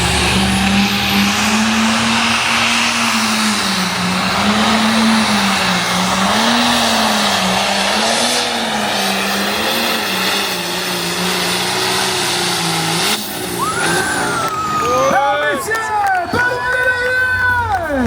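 The T7 pulling vehicle's engine drones loud and steady at an agricultural expo in Saint-Hyacinthe, rising into sharp revs near the end, while a crowd and an announcer's amplified voice carry over it.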